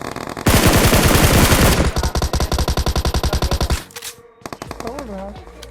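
Gunfire from the mobile battle-royale game BGMI (PUBG Mobile) around a building: a long loud automatic burst, then a rapid rhythmic string of shots, a brief pause and scattered quieter effects.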